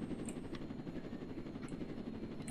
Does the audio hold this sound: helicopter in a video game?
yes